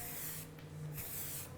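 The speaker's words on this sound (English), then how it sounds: "spraying it at a distance," Two bursts of flexible texture hair spray hiss from an aerosol can onto curly hair, each spray a short breathy rush separated by a brief pause, close and clear with no talk.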